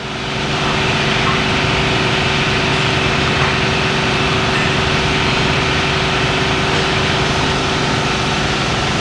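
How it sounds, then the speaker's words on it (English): Harley-Davidson CVO 110 V-twin engine idling while running rich on the front cylinder, a loud steady close rumble with a constant droning tone throughout. "Definitely running a bit rich on the front cylinder."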